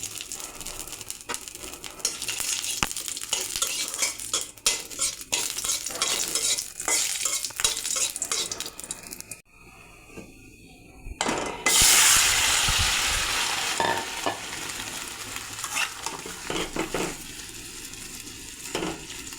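Bay leaves dropped into hot mustard oil for tempering, with a fish-and-greens dish cooking nearby. A loud, bright sizzle bursts up after a brief lull and crackles steadily, preceded by stirring and scraping in the pan.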